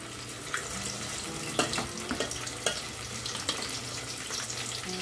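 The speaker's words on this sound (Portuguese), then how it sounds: "Colocar o empim para fritar." Cassava frying in a pan, a quiet, steady sizzle with a few sharp clinks and scrapes of a utensil stirring, heard close up.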